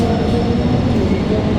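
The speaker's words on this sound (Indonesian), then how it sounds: "telah masuk di jalur 2 kereta api Rangga Jati dari stasiun Jember, Surabaya Gubeng hingga terakhir di stasiun Cirebon" The Ranggajati passenger train rolls into track 2 at an Indonesian station with a heavy, steady rumble and rail noise, loud and close throughout, with faint voices mixed in.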